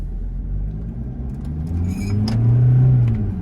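A remapped Toyota Fortuner 2.8 diesel accelerates in gear, its engine a steady low rumble from inside the cabin that swells louder toward the end.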